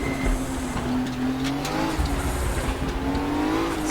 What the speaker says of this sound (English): This is the Fab Car 935 Group 5 car.